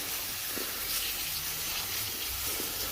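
Water pouring steadily from a hose or can into hanging baskets and planters, a continuous close hiss and splash soaking the soil, with no talking.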